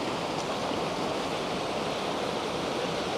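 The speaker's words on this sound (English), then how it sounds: "There's another little cascade there." A small cascade of water tumbling over rocks in a South Wales valley, a steady, dense rush of white-noise splashing that holds evenly throughout, close and fairly loud with no voices.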